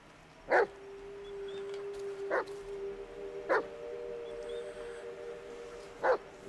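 A dog barks four times in sharp, evenly spaced single barks, with a thin drawn-out whimper lingering between them in a quiet outdoor setting.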